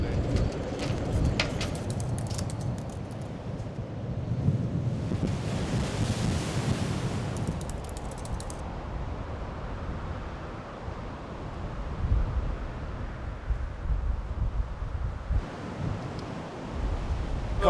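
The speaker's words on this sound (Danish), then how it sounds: "Ja, der er bølger." Ocean surf on the Danish coast, with a steady roar of breaking waves and strong wind buffeting the microphone, continuous and loud throughout, with bursts of hiss as water washes in.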